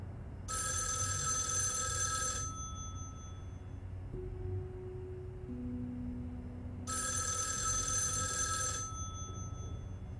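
A video game telephone rings in two long electronic bursts a few seconds apart, loud and clear over a low ambient background, with soft tonal game sounds in between.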